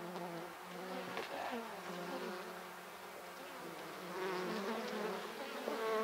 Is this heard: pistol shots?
no